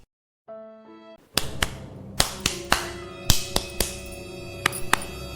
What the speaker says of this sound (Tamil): என்னது இது கதவு தட்டுற மாதிரி கேட்குது